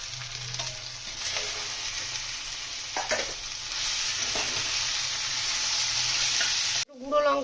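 Spices sizzle steadily in hot oil while being stirred for lemon rice, with turmeric powder, coriander powder, salt, ginger and garlic in the pan; a continuous close frying hiss runs throughout, broken by scraping stirs, and it ends in a brief cutoff.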